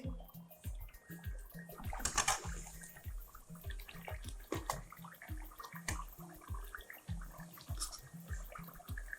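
Chicken korma cooks and is stirred in a pan over a raised flame, with soft, rhythmic thuds of the stirring over a faint, wet bubbling and sizzle.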